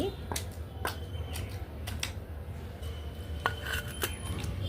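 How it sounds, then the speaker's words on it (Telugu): Prawns and masala are pounded by hand for prawn vada, giving a series of sharp, irregular thuds and clinks close by over a low background hum. "రొయ్యలు ఇలా దంచుకోవాలన్నమాట."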